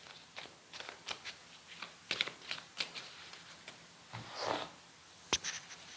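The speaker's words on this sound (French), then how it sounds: "je vais recouvrir mes 4 cartes avec les arcanes mineures que je tire toujours à l'endroit" Tarot cards, minor arcana, being drawn and laid face up one after another on a table, giving soft, scattered card slaps and slides with brief rustles, quiet and close, no talk.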